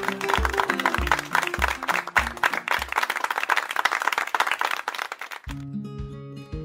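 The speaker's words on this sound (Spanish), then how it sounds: "a quienes les damos un caluroso aplauso" Warm applause for a teacher and two helpers on a Mexican secondary-school home-learning broadcast, dense steady clapping over a music bed that carries on alone after the clapping ends.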